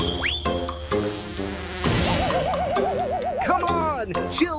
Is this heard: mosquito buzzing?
yes